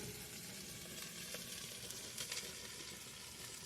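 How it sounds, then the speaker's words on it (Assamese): Spices and potatoes fry together in a pan, a faint, steady sizzle with a few soft stirring scrapes, no voices. "ভালদৰে ভাজি ল'ম মছলাখিনি, আলুখিনি গোটেইখিনি একেলগে ধুনীয়াকৈ ভাজি"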